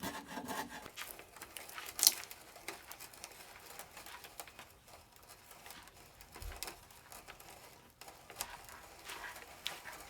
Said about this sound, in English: I'm just going to take a block plane and chamfer all the edges here